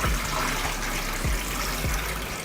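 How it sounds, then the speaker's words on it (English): Tap water runs steadily while salted, vinegar-soaked chicken wings are rinsed in the kitchen, a continuous close gush with a few soft thuds of the wings moving under the stream. "Now we can wash and remove the excess water."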